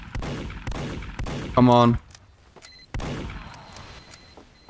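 Gunfire aimed at a sentry gun in Team Fortress 2, loud close bursts of shots with brief gaps, under someone speaking.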